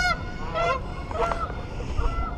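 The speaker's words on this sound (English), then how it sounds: "even the geese are honking about it." A few geese honk in short nasal bursts, a couple of calls clustered together over a steady background hum, near the Ambassador Bridge in Windsor, Ontario.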